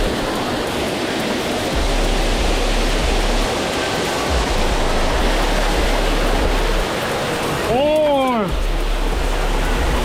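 A waterfall in a slot canyon pours in a loud, steady hiss close to someone walking through it. A voice briefly exclaims partway through.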